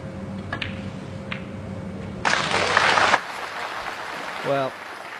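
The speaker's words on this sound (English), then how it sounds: "a load of applause from the Chinese fans" Short burst of applause from Chinese fans at a snooker match at the International Championship, about a second of clapping rising above quiet arena murmur and commentary.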